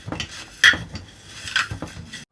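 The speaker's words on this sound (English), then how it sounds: "we're going to mix it" Cracker ingredients mixed in a bowl, a run of close, uneven clinks and scrapes of a utensil against the bowl with a couple of sharper knocks, no talk.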